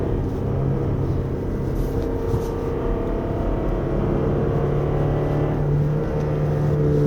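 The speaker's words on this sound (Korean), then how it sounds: "지금 이제 기어가 2단에 고정된 채로 주행을 하다 보니까 엔진 소리가" The engine of a 2024 Toyota Alphard 2.5 hybrid, held in second gear on a winding road, drones steadily at high revs, a constant humming whir with rumbling road noise underneath and no talking.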